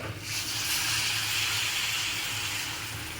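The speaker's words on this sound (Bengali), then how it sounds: "এখন আমি ফুল ফ্লেমে যা আছে এর মধ্যে দেবো জল।" Water is splashed into chicken masala sizzling over a full flame, setting off a loud, steady rush of hissing steam that fills the whole moment without any voices.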